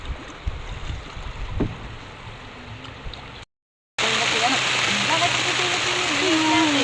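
Steady rain pours outdoors as a dense, continuous hiss that cuts out briefly and then returns louder, with faint voices and scattered sounds underneath.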